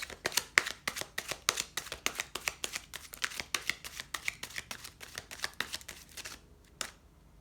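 Tarot cards are shuffled rapidly up close, a quick run of crisp riffling snaps and flicks that slows and stops near the end.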